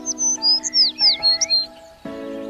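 A sparrow chirps in a rapid series of short, bright tweets, loud and close, followed by a steadier tonal sound at the end.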